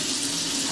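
Hot water runs from a kitchen sink tap in a short, steady, close hiss and splash, alone without talk.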